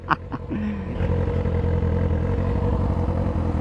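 A Yamaha sport motorcycle with Pirelli Supercorsa tyres revs outside a workshop, a short rising blip settling into a steady, near rumble for a few seconds without any talk.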